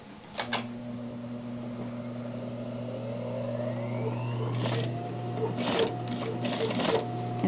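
A sewing machine stitches a seam joining a waistband to denim trousers, its motor whirring steadily with short faster bursts and clicks, fairly quiet and close throughout.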